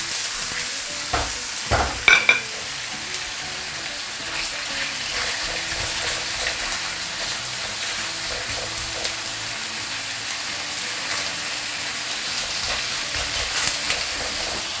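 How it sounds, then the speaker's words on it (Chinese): Fish sizzles steadily in a non-stick pan over high heat, with a couple of louder clatters near the start and a continuous hissing fry throughout. "下锅以后呢，可以把火开大啊，这个时候把火开大，不用担心它粘锅"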